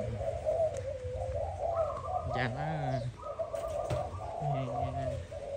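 A Malaysian spotted dove coos in a repeated low, rhythmic pattern close by, while someone speaks intermittently over and around the calls.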